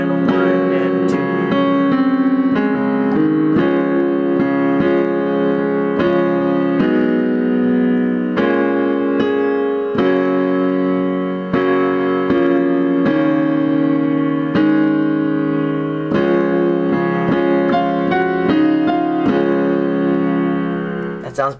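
Solo piano works through a section of a song in a steady, counted rhythm with sustained chords, loud and close, with no voice over it.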